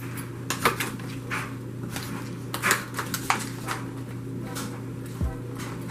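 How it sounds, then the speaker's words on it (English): Dishes and pans clatter and knock in a home kitchen as a tray of seasoned ranch potatoes is handled and slid into the oven, with several sharp clunks over a steady hum. "Alright, in the oven it goes."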